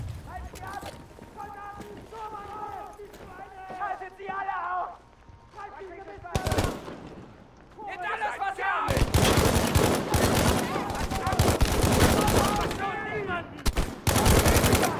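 Video game soldiers open up with rapid automatic gunfire, dense and loud bursts dominating the latter half after scattered shots and clatter, with a voice talking over the earlier part.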